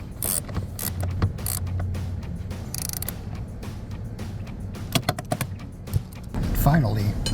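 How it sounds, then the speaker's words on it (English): A 14mm socket on a ratchet tightens seat bracket bolts inside a Jeep Gladiator JT, giving quick mechanical clicks and clanks in short bursts, close by, with a voice talking throughout. "using a 14mm socket is what I'm using to secure the bolts that came with the brackets"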